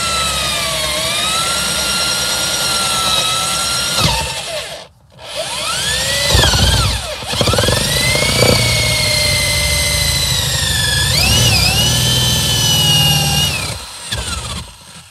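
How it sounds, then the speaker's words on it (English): A power drill whines loudly up close as it bores holes into a truck frame for a new ground wire, with pitch rising and falling as the bit bites, a brief pause near the middle and no talking. "I'm gonna drill some holes down off in here and run the new ground wire down through the frame here."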